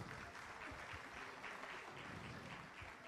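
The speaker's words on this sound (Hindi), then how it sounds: "जोरदार तालियां बजाओ भाई।" A crowd at the National MGNREGA Workers' Convention in New Delhi breaks into vigorous, continuous applause, a thick, steady roar of clapping from many people with no pauses.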